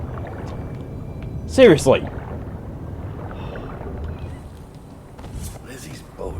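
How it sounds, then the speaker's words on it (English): A small boat moves across water in Dishonored, making a steady low wash and rumble. A voice cuts in once with a short exclamation. "Lizzie's boat is smaller than I remember."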